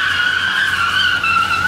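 A Honda Civic skids across pavement on tray slides, a loud continuous tire squeal holding steady for the whole stretch with a faint engine rumble underneath and no talking.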